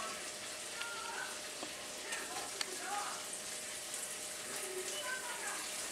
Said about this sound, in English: We put a little bit of butter in this because we're going to fry up some scallops.